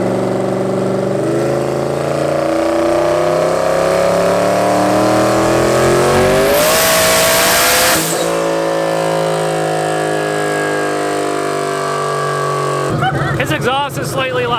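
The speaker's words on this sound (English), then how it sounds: "His exhaust is slightly louder now." A modified car's loud exhaust revs up in a rising, gliding whine, peaks with a roaring burst around the middle, then settles to a steady drone before rough crackles near the end.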